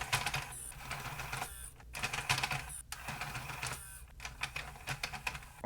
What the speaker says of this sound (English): If I apply some voltage to this motor, it should do the work for me